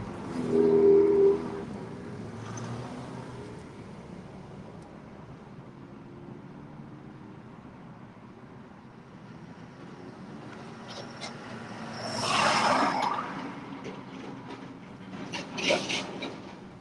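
A train rumbles past at a distance in Illinois, with a horn sounding faintly and then louder bursts of rail noise later on.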